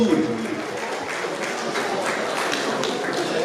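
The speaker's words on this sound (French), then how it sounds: "applaudissez, à Sokoti" Audience applause at a 50th anniversary ceremony with honours, a brief burst of scattered clapping heard moderately loud, with some voice activity mixed in.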